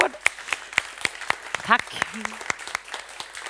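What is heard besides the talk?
audience applause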